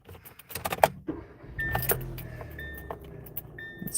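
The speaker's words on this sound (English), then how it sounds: "Do I have my car keys? Yes, I do." Car keys jangle close up in a few bright metallic shakes, followed by soft clicks and the low hum of a car cabin.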